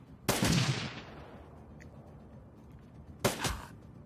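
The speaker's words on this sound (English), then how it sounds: "Gun turret to the rescue." Gun turret firing in the Shadowrun: Dragonfall video game: two sharp, loud bursts about three seconds apart, the first trailing off in a long fading tail over a quiet background hum.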